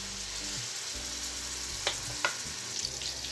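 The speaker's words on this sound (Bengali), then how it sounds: "পেঁয়াজ কাঁচামরিচ দেওয়ার পর আমি পেঁয়াজ কাঁচামরিচটাকে হালকা ভেজে নিচ্ছি।" Sliced onion and green chilies lightly frying in hot oil in a pan, a soft continuous sizzle with a couple of brief clinks from stirring, heard close and fairly quiet with no talking.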